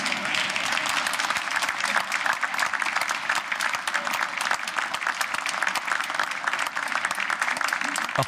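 Dense, steady applause from a theatre audience in Košice, Slovakia, before the curtain rises: many hands clapping together at an even, sustained level with no voices standing out.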